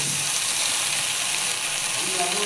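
Maggi noodles frying with masala in a pan, a continuous dense hissing sizzle, close and steady, with faint faint voice in the background.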